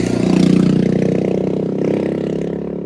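A motorcycle engine revs loudly and close by in the Sierra mountains, its throaty growl holding steady with slight rises and dips in pitch.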